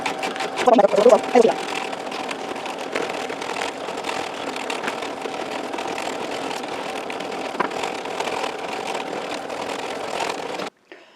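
An embroidery machine stitches an in-the-hoop Christmas cracker cover, with the footage sped up. A steady, fast mechanical whir runs throughout, with a louder rattling burst near the start, and then cuts off abruptly at the end.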